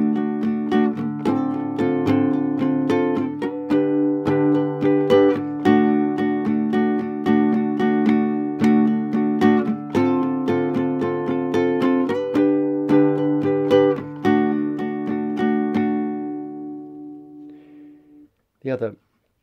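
An acoustic guitar strums a chord progression in D, with the shapes sliding up the neck and returning to D. Rhythmic, full chords ring close for about seventeen seconds before fading, followed by a brief final strum.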